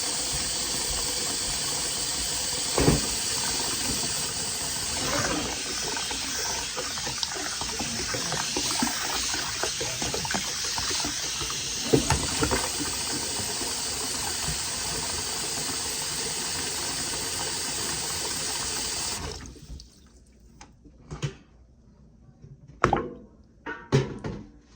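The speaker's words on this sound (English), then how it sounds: "Our water's coming up to make sure that we're covering the sides" Warm water pours into a basin around a pot of raw milk for feta, a steady close hissing rush that stops abruptly near the end, followed by a few knocks and clatters.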